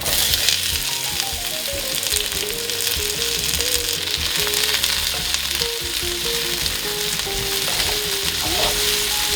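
Shallots and fresh garlic fry steadily in a hot pan, a dense, continuous sizzle running the whole time with occasional scraping stirs, fairly loud and close.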